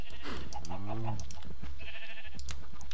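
A sheep in the video game Minecraft bleats several times in a wavering cry, close and clear, over a steady background hum, with soft clicking noises nearby.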